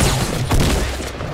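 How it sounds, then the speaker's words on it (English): Fortnite gunfire at close range: a loud, brief flurry of overlapping shots in quick succession. "Someone else is shooting me."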